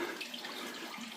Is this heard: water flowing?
yes